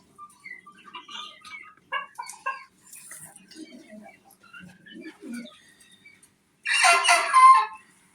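Domestic fowl at a poultry farm make scattered clucks and bird calls at close range against a quiet background, ending in a louder burst of noisy squawking.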